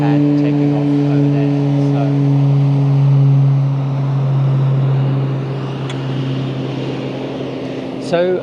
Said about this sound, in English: you're about to see the mallard plane taking off. So it's very kind of noisy